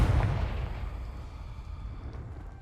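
A Confringo fire spell blast in Hogwarts Legacy bursts loudly at the start, then rolls into a fading rumbling tail that lingers for a couple of seconds.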